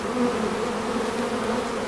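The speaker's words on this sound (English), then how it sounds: "This one's covered with bees, so we'll shake them back into the hive." Honeybees on a Virginia hive fitted with a screened inner cover, a dense ball of them clustered on top, drone in a steady, close, continuous buzz with no voices over it.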